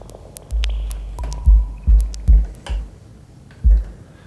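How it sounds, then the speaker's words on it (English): Dub percussion hits run through a Roland Space Echo tape echo, with punchy low thumps and sharp clicks spaced irregularly, some trailing into faint repeating echo tails, no talking. "So this is my percussion, and I can route them through right now the Space Echo,"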